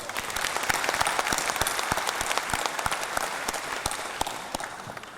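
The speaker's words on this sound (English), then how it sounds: "Let's give them a round of applause" A large convention audience at the 2017 Global Peace Convention in Manila breaks into full, sustained applause, dense and even, with sharper individual claps standing out throughout.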